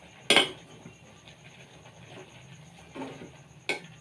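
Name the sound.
mixing prawn cutlet mixture in a bowl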